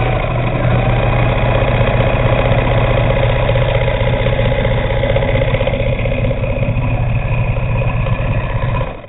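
Bernina 830 sewing machine running continuously while stitching a ditty bag, a loud, steady mechanical hum and rapid rhythmic whir that holds evenly for about nine seconds before stopping.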